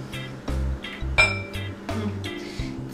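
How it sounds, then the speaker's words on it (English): Melted chocolate with scrambled egg mixed in is moved into a bigger bowl for a flourless chocolate cake, giving repeated close clinks and taps of utensil against bowl in an uneven rhythm, with no talking. "Now I'm taking my chocolate and transferring it to bigger bowl."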